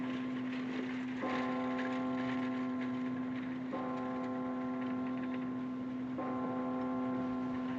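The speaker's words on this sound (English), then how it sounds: "Something peaceful about a church bell, isn't there" A church bell tolls three times, slow and evenly spaced, each strike ringing out over a steady low hum with a ticking clock in the background.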